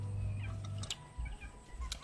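A chicken gives a few short, close clucks over low background hum, with a brief scratchy noise between them.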